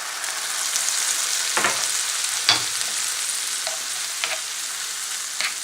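Apples sizzling in a hot frying pan with calvados added give a steady bright hiss, broken by a few soft clinks and scrapes of a utensil, close and continuous with no voices.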